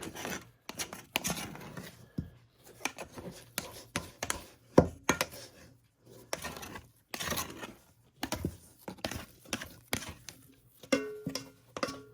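A small scraper works sticky, moist baguette dough on a counter, making a run of irregular scraping, tapping and chopping strokes with brief pauses in between.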